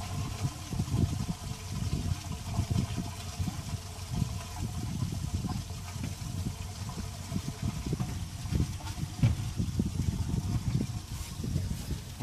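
Wastewater from an RV black tank drains through a sewer hose, a steady gurgling, sloshing flow with irregular low surges running continuously at close range.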